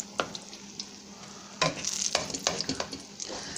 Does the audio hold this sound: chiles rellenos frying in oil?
yes